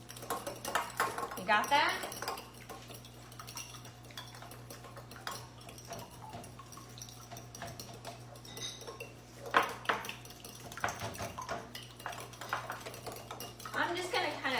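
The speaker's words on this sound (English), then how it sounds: "You gotta mix the yolk and the egg white together." An egg is whisked in a bowl while a cook prepares gluten-free lasagna, the utensil clinking and tapping rapidly against the dish in bursts, with people talking nearby throughout.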